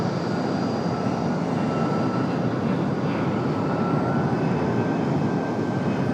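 An airliner takes off from runway 23 right at Raleigh-Durham International Airport, giving a loud, steady jet roar with a broad rumble that holds throughout, with no voices.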